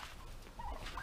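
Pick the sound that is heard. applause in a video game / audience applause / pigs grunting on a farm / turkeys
turkeys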